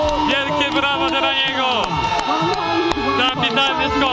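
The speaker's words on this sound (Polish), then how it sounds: "Wielkie brawa dla niego." Spectators cheer and clap after a 101.5-metre jump by Maciej Kota at the 2023 Summer Grand Prix ski-jumping event in Szczyrk. Loud whoops and shouting voices rise over scattered clapping in a lively, continuous outdoor crowd.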